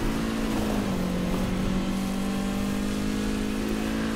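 Car engine racing in the video game Need for Speed Heat, a continuous loud revving drone with a rising and falling engine tone, no voices.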